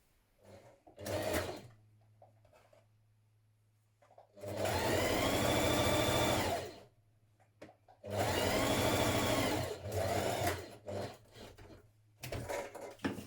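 A sewing machine runs in two long sustained bursts, stitching a seam between notches on a sweatshirt's pocket bags, with shorter stops and starts around them and a steady low hum underneath.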